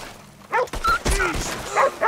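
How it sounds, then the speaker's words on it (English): A dog in Red Dead Redemption 2 gameplay gives a few sharp, close barks and yips amid game noise, with short gaps between them. "See, the dog is vicious too, man. He got your back."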